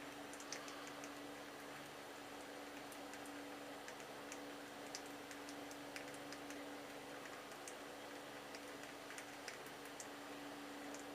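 A Feather shavette razor scrapes against the grain of lathered stubble, faint rapid ticking strokes repeating steadily over a low background hum.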